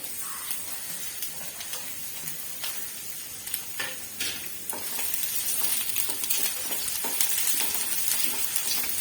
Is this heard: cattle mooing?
no